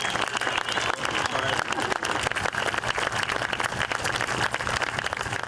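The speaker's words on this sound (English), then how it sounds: "Let's get another round of applause for Dr. Eric Millett." An outdoor audience at a sunrise 9/11 memorial ceremony in a town park breaks into sustained, even applause, many hands clapping steadily at moderate distance, with a voice speaking over it.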